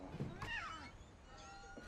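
A cat meows in the video game What Remains of Edith Finch, a short rising-and-falling cry heard up close, with a voice talking around it.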